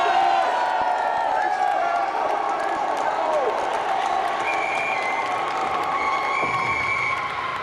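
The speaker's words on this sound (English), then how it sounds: "a round of applause for the footballists" A large crowd at a football match applauds and cheers continuously at steady loudness, with whoops and shouts rising above the clapping throughout.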